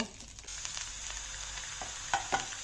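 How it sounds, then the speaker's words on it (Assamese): Brinjal pieces fry in oil in a pan for a home-style fish curry, giving a steady, close sizzling hiss with a few brief louder crackles near the end. "বেঙেনাখিনি অলপ ভাজি লম"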